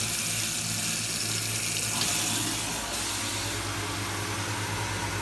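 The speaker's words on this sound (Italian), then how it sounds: "si è resettata la pompa, l'acqua c'è nuovamente." Water gushes steadily from a tap fed by a home pressure pump that has just been reset, a loud, continuous broadband rush with no pauses and no voices.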